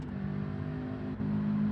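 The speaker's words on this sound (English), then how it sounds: "Gotta love that sound of that boxer engine." A boxer engine in the Gran Turismo 7 racing game hums at a steady pitch, briefly dips and then holds a stronger, louder drone, close and continuous without talking.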